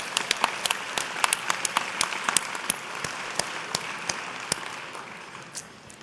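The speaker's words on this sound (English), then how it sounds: "Can we applaud for the Catalyst staff?" An awards dinner audience claps for the Catalyst staff, a dense burst of applause with sharp individual claps that gradually thins and fades toward the end.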